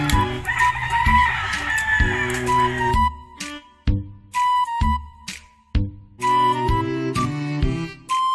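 Chickens cluck and squawk up close, with a rooster crowing amid a busy, overlapping chorus of hens.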